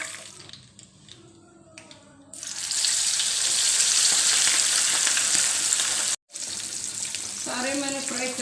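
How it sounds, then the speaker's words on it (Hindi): Fish frying in a pan for a karahi, quiet at first, then a loud continuous hiss of oil that breaks off briefly and resumes, with a faint voice near the end. "सारे मैंने फ्राई कर लिया है।"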